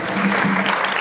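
A short, dense burst of audience applause at a round-table discussion on job integration, steady and fairly loud, with a faint low voice underneath.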